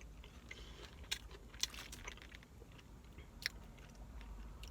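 Someone chews an Impossible Whopper burger close to the mic, with soft wet mastication and a few sharper crunchy bites over a faint low hum.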